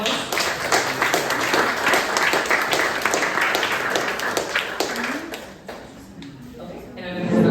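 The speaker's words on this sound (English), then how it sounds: "can we get one more round of applause for our extraordinary panelists?" An evening audience gives a round of applause for a panel of speakers, steady mixed clapping that holds for several seconds, then thins before a voice returns at the end.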